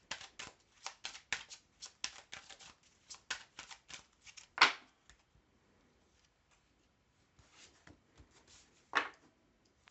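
Tarot cards are shuffled and riffled in quick dry bursts, a steady run of crisp flicks for several seconds, then a couple of sharper snaps and quiet handling between them, close and clear with no talking.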